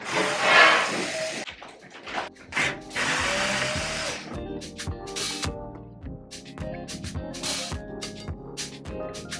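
An electric sander works along the sides of a wardrobe in short, harsh bursts of rasping noise, mixed with background music.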